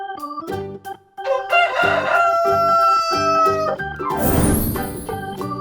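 A rooster crows loud and close in a single long cock-a-doodle-doo with rising harmonic calls, set against a bright musical backing, ending in a burst of noise.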